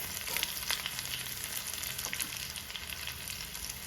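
Shallots and dried red chillies fry in hot oil with mustard seeds and fenugreek for a Kerala mango pulissery, giving a steady close crackling sizzle that holds without a break, with no voices.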